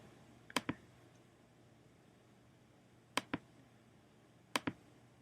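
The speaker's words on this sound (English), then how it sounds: "I'm like clicking and clacking all over this damn thing" Mouse clicks on a computer come in three quick pairs of sharp, close clicks spaced a few seconds apart, with a quiet background between them.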